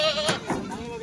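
A goat at a busy goat market gives one brief, wavering bleat close by, amid crowd noise.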